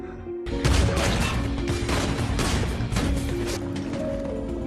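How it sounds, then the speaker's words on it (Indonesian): Gunfire in a battle against Russian mafia in an action film, dense and loud rapid bursts packed with crashes and mechanical clatter, continuous across the whole stretch with no pauses. "langsung melepaskan tembakan"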